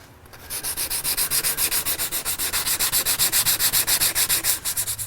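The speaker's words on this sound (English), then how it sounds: "I've finished wet sanding" Steady, rhythmic back-and-forth wet sanding with sandpaper on a rust repair on a car body, close up, each stroke a hissing rasp in a regular repeating pattern without pause.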